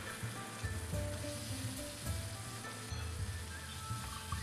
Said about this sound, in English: Stir fry the fish so it won't stick to the pan.